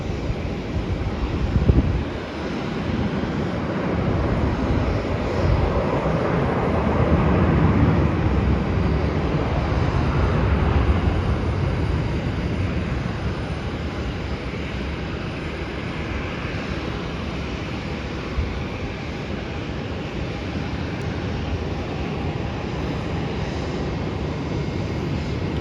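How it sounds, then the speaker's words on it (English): Airliner landing at Melbourne airport, a distant, steady jet roar that swells gently and fades, heard faintly beneath continuous wind noise on the microphone. "the flight from Adelaide will be landing."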